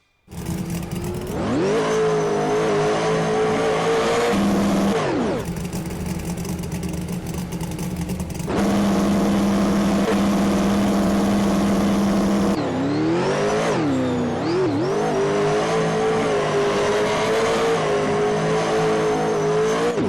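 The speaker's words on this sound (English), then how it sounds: "With those changes made, we'll hit the track for our 2nd run." A twin turbo pro modified drag car in Bounty Drag Racing roars through a run, its engine loud and close, winding up through several gear changes with pitch rising, dropping and climbing again.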